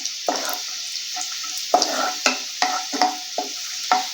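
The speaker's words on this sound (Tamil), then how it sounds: "இப்போ நம்ம எடுத்து வச்சுருந்த முந்திரி பருப்பை சேர்த்துக்கிறலாம். முந்திரி பருப்பை வறுத்து எடுத்துக்கிறலாம்." Cashew nuts fry in hot ghee in a pan, giving a constant bright sizzle. About nine or ten short scraping stirs land at a fairly regular pace, close and clear, with no talking.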